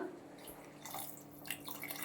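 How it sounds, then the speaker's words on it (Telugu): Water is added to sambar simmering in a pot, heard as a short, faint trickle with scattered drips against a quiet kitchen background, with no voices. "వాటర్ యాడ్ చేస్తున్నా"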